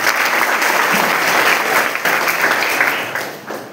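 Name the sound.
applause from audience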